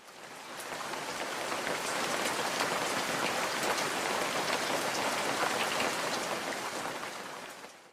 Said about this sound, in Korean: 오늘 소나기 온댔어